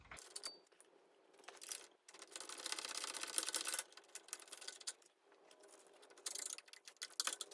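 A wrench works a 9/16 bolt on a Harley 96-inch Twin Cam engine with rapid ratcheting clicks and metallic rattles in several bursts separated by brief pauses, close and fairly quiet, with no speech.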